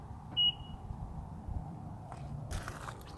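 Single short electronic beep from a 2018 Honda Pilot as its doors lock from the key fob, brief and clear over a low steady rumble, followed by faint clicks and rustling.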